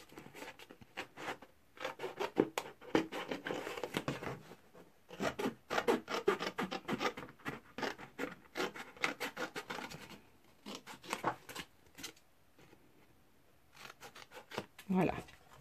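Scissors cut around a paper craft tag, giving irregular bursts of close snipping and rasping paper sounds, with soft pauses and quiet talk in between.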